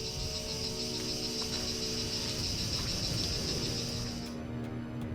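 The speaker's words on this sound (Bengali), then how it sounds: "দেখুন ঝিঝি পোকার ডাক শুনতে পাচ্ছেন" A dense, steady high-pitched chorus of crickets trilling continuously in jungle at Colmar Tropicale, moderately loud, with a low background hum and no voices.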